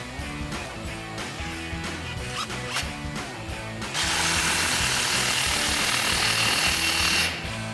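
A 15mm socket ratchets rapidly while tightening an exhaust clamp on a 2022-2024 Toyota Tundra during an MBRP Armor Pro exhaust install, busy metallic clicking giving way to a denser, louder rasp.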